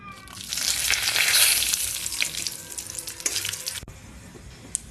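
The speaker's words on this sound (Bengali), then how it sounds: "এটাকে একটু ভালো করে লালচে করে ভেজে নেব" Whole garam masala and bay leaves sizzle loudly in hot oil in a wok for chicken curry, with a hiss that swells then eases, plus occasional scrapes and a sharp clack near the end.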